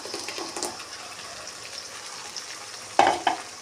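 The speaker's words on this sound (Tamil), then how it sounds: "இந்த தக்காளி வந்து நல்லா பச்சை வாசனை போகிற வரைக்கும் நல்லா வதக்கிக்கலாம்" Ground tomato sautéing in oil with shallots and garlic for a tomato okra kuzhambu, a soft steady sizzle with a few scraping stirs and a sharper clatter near the end, no voices.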